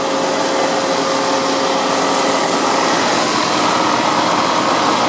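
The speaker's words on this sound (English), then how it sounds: "Nice and smooth motor." A belt grinder's electric motor runs steadily with a smooth, even whir and a broad airy hiss, loud and close, unchanging throughout with no talking.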